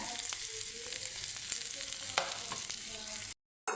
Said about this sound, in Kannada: ಜೀರಿಗೆ ಸಾಸಿವೆ ಬೆಳೀತಾ ಇದ್ದಂಗೆ ಹಾಗೆ ಫ್ರೈ ಮಾಡಿ